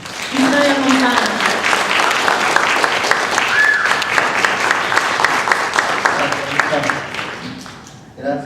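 Conference audience applauding a speaker at a session on public education in El Salvador, a dense, steady wash of clapping that fills the room, loud and sustained before thinning out at the end.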